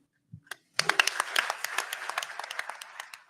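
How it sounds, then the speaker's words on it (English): Media people clapping at a press conference, a brief scattered round of handclaps that starts abruptly after a moment of near silence and continues at moderate level with distinct individual claps. "Are the media people clapping?"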